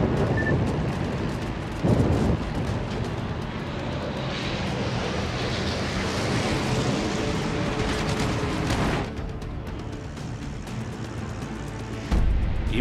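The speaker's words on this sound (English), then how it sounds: "Torpedoes to port." Torpedoes launched from a warship in a video game, heard as a loud, steady rushing roar that runs for several seconds with a couple of sharp bursts breaking through.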